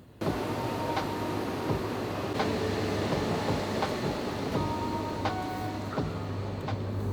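A train in Japan runs steadily on rails, heard from on board as a continuous rumble with periodic clicks from the wheels passing rail joints and a faint tonal whine.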